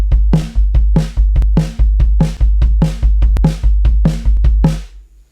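A drum kit plays a hand-foot exercise in eighth-note triplets, a steady cycle of sharp snare and cymbal hits over booming bass drum strokes, loud and close with no voices.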